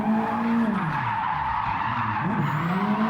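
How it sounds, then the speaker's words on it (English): Tires squeal and skid continuously as a car drifts through a wide open area in the Gran Turismo 7 racing game, a loud sustained slide with a wavering pitch that dips and rises again under the engine drone. "the car slides without an issue"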